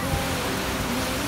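Steady broadband rush of a flowing brook outdoors, close and continuous with no breaks, a short burst of even water noise.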